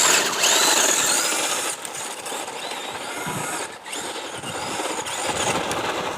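A vintage Team Associated RC10T3 rear-wheel-drive RC truck whines and spins on loose gravel, its electric motor buzzing continuously up close with crunching grit and brief dips in pitch.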